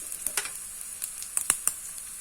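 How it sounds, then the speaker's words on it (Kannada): Dry-roasting coriander, mustard seeds, black pepper, cumin and fenugreek in a pan for Mangalorean crab curry, giving soft crackling pops and light stirring scrapes in a quiet kitchen, close and faint. "ಹಾಗೂ ಮೆಂತೆ, ಇವನ್ನೆಲ್ಲ ಒಟ್ಟಿಗೆ ಹಾಕಿ ಹುರಿಯುವ ಒಂದ್ಸರಿ"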